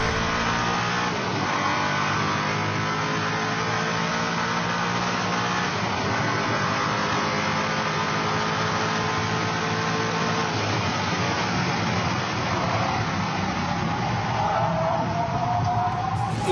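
A Koenigsegg hypercar engine roars steadily as it accelerates hard toward 300 km/h, with rising gear pitch and a sustained, loud, close drone throughout.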